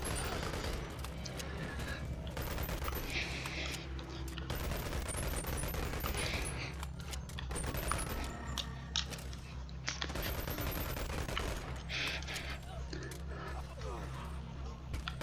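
Rapid gunfire fills a VR shooter game arena round in Boneworks, with continuous bursts and shots layered over a dense, steady background of game noise and effects throughout.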